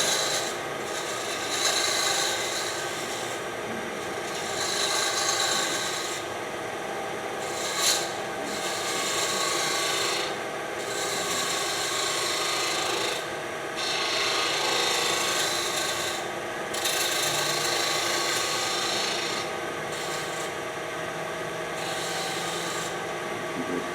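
A scraping rasp of 80 grit abrasive worked over small wood cutoffs, repeated back-and-forth strokes in rhythmic bursts with brief pauses, close and steady.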